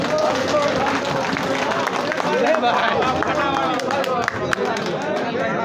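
Audience applause at an engineering conference raffle draw in Bangladesh, many hands clapping together in a steady, dense patter that fills the room, with a voice speaking over it.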